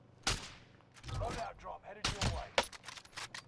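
Video game gunfire in a multiplayer shooter: sharp bursts of shots crack out in several separate clusters, loud and close, mixed with brief chatter from players.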